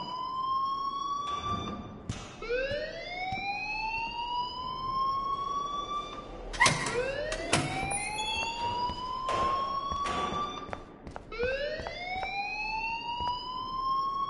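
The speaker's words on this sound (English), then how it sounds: "please turn off that alarm since that's your job" Siren-like alarm wails in the game Life Is Strange, rising sweeps repeating every couple of seconds over a constant background hum, with no talking.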